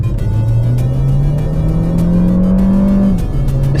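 An Audi A1 in sport mode revs hard from inside the cabin, its engine note rising smoothly in pitch over a few seconds, dropping at a gear change, then climbing again, loud and close.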